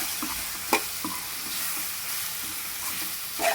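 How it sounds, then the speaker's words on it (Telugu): A spice mixture with turmeric powder is stirred in a sizzling pan, a steady frying hiss broken by a few scraping strokes of the spoon, close and fairly loud. "ఇదంతా బాగా కలుపుకోవాలండి"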